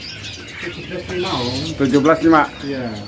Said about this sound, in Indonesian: Dan cucak cengkok, burung masteran.